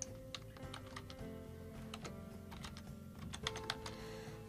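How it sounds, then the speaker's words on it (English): Someone types text into a table on a computer keyboard, quick irregular key clicks up close and fairly quiet over a faint steady hum. "I can enter text into these, so I can type in Monday"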